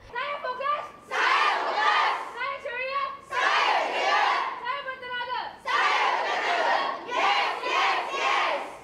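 School pupils cheering and shouting together to encourage exam candidates, a crowd of young voices rising in loud waves of chants and cries with brief dips between them.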